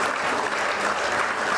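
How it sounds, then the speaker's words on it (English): A brief, dense burst of audience applause for a chief guest at a foundation day ceremony, many hands clapping steadily and loudly with no speech over it. "could we have a loud round of applause for our chief guest"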